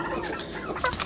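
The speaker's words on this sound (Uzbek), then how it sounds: "Bu yerda xo'rozlarimiz mana 6 ta xo'roz yetilgan." Chickens and roosters on a small farm flock of about six hens and six grown cockerels, clucking softly and continuously at close range, with a slightly louder cluck near the end and no talking.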